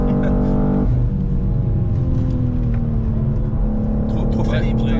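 A BMW M2 drives hard on the Nürburgring with a loud, steady in-cabin engine drone whose pitch rises and falls through the gears, while people talk over it.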